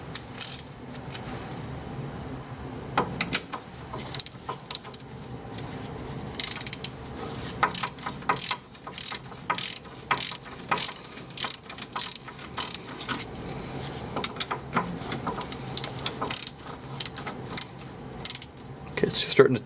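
Ratchet cranking bolts tight on a 1996 Jeep Cherokee CV joint, rapid close clicking in repeated bursts throughout, with occasional low voices in the background.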